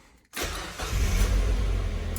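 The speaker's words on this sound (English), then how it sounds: "if I start the car up" A Mazda MX-5 engine starts after a brief silence, the starter catching quickly into a steady idle that rises slightly and settles into a loud, even low rumble close by.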